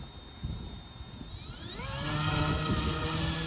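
A Yu Xiang UH-1 Huey remote control helicopter spools up for liftoff, its motor whine rising steadily in pitch and loudness into a sustained high buzzing hum, close by and alone.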